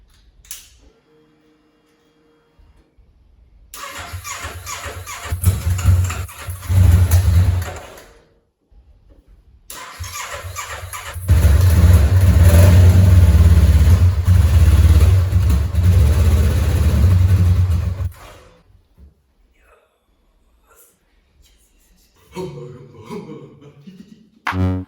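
Honda CB500 motorcycle engine cranking, then catching and idling roughly before cutting out, then restarting and revving loudly and steadily up close for several seconds before shutting off, followed by quiet clicks and handling sounds.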